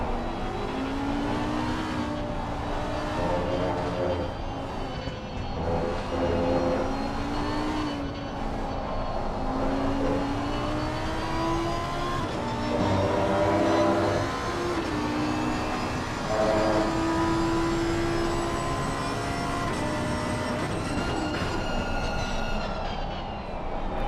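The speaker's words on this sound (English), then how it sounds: "As we hear the crispy downshifts of that V10 engine" A loud V10 GT race car engine roars and drops through several quick downshifts as it brakes at Indianapolis Motor Speedway, pitch stepping down, then climbs again, with no talking.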